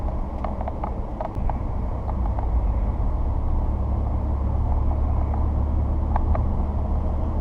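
A 2017 Ford Raptor pickup truck driving through traffic, with a steady low engine and road rumble plus wind noise throughout and faint high ticks and clicks on top.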